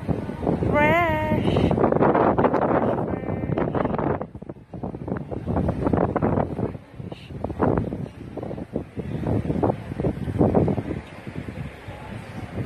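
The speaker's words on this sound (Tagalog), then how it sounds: "ang sarap ng hangin, ang lamig." Strong wind at The Peak above Central in Hong Kong buffets the microphone in loud, continuous gusty roars, with people talking close by throughout.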